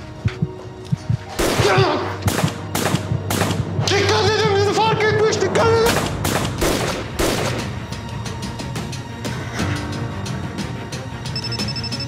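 A rapid burst of sharp gunshots, loud and close, with several spaced cracks before and after, and voices talking over a steady background hum.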